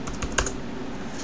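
Several quick keystrokes on a computer keyboard while a Linux reboot command is entered, a short burst of clicks up close over a low steady hum, with no voice.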